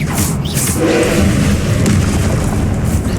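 Expelliarmus disarming spell cast in the Hogwarts Legacy video game, a loud booming burst with a thudding impact and sustained rumble.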